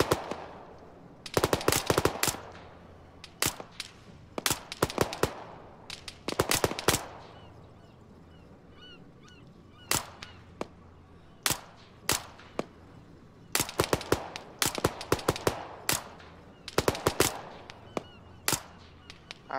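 Gunfire in a military shooter game, heard as sharp repeated shots in short bursts and single cracks scattered through the stretch, loud and close with quieter gaps between volleys.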